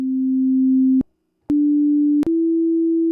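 A pure, steady sine-wave tone from a BEAP modular synth oscillator, held as a low sustained note, cut briefly by silence and clicks, then resuming at a slightly higher pitch, with no talking.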